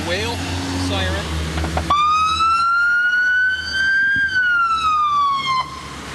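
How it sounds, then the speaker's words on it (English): A police vehicle's siren starts its wail mode after a brief stretch of talk, one long, loud tone that slowly climbs in pitch, holds, then slides back down, close by. "have the whale siren."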